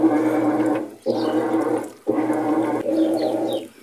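Water flows steadily into a Whirlpool semi-digital washing machine during its wash cycle, a loud close rushing sound broken by brief dips about once a second.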